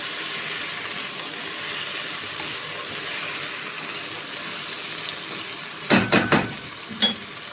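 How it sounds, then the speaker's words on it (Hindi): Tomatoes stirred into peas pulao in a pan sizzle steadily, then a spoon clanks against the pan several times near the end. "टमाटरों को भी अच्छे से हम इसमें मिक्स करेंगे"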